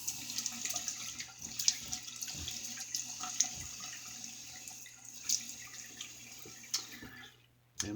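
A tap runs into a sink, a faint, steady splash with small drips and water being scooped up by hand, the sort of sound heard when wetting the face before a shave.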